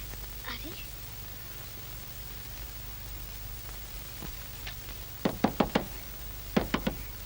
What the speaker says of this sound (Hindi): लीलो, दरवाजा खोल